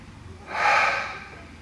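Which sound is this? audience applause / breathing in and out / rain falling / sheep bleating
breathing in and out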